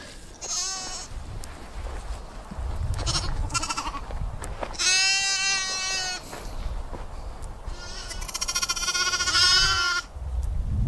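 Baby Doll sheep and lambs bleat repeatedly, with several loud, wavering calls close by, some overlapping, and short quieter gaps between them outdoors.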